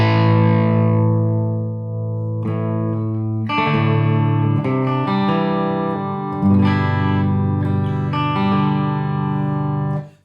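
Harley Benton L1000 electric guitar played through the clean channel with the volume rolled back, sustained chords ringing out in several strummed passages with a distorted, effects-laden edge and no talking.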